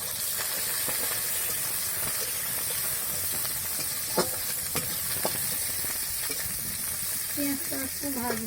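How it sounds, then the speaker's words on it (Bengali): Onions sizzle and fry steadily in hot oil in a pan, a constant crackling hiss with occasional scrapes and clinks of a stirring utensil. "পেঁয়াজটা একটু ভাজবে"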